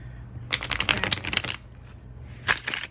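Tarot cards are riffled close up in a rapid flurry of crisp snapping flutters lasting about a second, then a pause and a shorter second burst.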